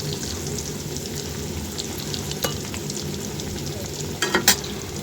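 Potatoes frying in white cooking oil in a home kitchen give a steady, close sizzle, with a few sharp scrapes of stirring toward the end.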